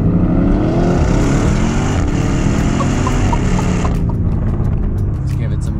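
A Lamborghini Urus SUV with its exhaust valves opened in Corsa mode, its engine roaring loud and close at full throttle as a sustained deep drone, pitch climbing gradually before easing off near the end.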